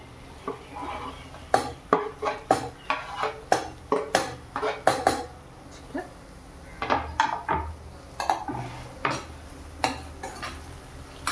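Onion, tomato and coriander stalks being stirred in a pan, with a spatula scraping and clinking against the metal in uneven bursts of strokes, close and fairly loud over a faint sizzle.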